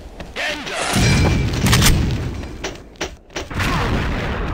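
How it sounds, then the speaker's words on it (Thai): A deep booming grenade blast from a competitive XSHOT shooter video game match lands early, followed by rumbling and further thuds under a noisy, busy game soundscape. "ปาระเบิดดังมาอีกแล้วครับ"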